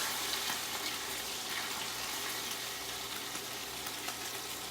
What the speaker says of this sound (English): we're going to give them a good sear on both sides